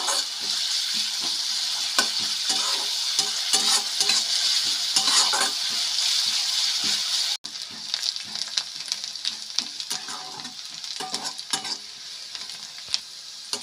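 Chopped medium-sized onion fries over a high flame in a pan, a loud continuous sizzle with intermittent scraping and stirring clatter, dipping briefly halfway through before carrying on.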